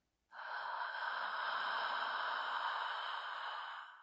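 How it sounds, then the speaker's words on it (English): A single long, audible deep inhale through the mouth during a breathing exercise, starting abruptly and sustained as a smooth airy rush for nearly four seconds before tapering. "This next breath is going to be one that is a bit more audible, allowing the inhale itself to have sound."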